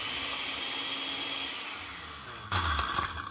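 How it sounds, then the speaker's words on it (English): A kitchen blender whirs steadily while chopping two garlic cloves, its motor hum fading slightly before a louder, choppier surge of grinding near the end. "So I add 2 cloves of garlic. And I just blend them."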